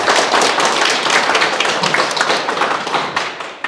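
Audience clapping at a Korean lecture, a dense, steady patter of many hands filling the space, loud and close, fading slightly at the end.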